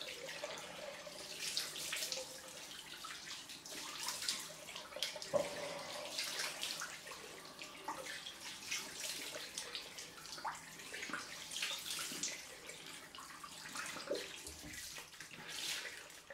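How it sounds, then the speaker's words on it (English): Cold water runs steadily from a tap into a sink, a continuous splashing rush with small gurgles and drips throughout, fairly soft and close, with no talking. "Cold water."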